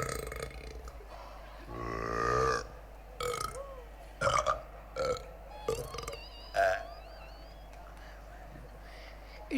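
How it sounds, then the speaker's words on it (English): During a school annual day stage musical of Matilda, a long, loud, rumbling burp comes across a steady background hum, followed by several shorter vocal bursts and grunts from the performers. "It was the biggest burp I have ever heard."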